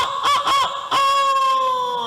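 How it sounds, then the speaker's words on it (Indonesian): A chicken calls nearby in two quick harmonic bursts followed by a longer, drawn-out cry, loud and clear with no talk over it. "Suara ayam,"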